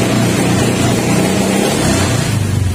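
Honda Beat FI scooter with a misfiring engine held at full throttle, a loud, sustained buzzing rev close to the machine, with slight wavering in pitch and no talk.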